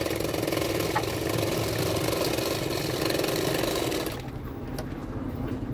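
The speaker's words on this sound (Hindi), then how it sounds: "धीरे धीरे करते हुए दोनों पार्टों को मिलाते जाना है और सिलाते जाना है" A sewing machine stitches two pieces of blouse fabric together, a steady close mechanical whirr that runs evenly for about four seconds and then drops to a quieter, lighter running hum.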